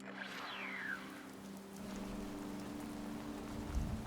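Steady rain falls in the game Fallout 76, a constant broadband hiss with a low droning hum beneath it and a soft thump near the end.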